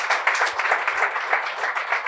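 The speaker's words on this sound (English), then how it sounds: "can we get a big round of applause for Wes Brown and Andy Cole?" Audience applause at a Manchester United legends panel talk, a steady wash of clapping from a crowd that fills the whole stretch without a break.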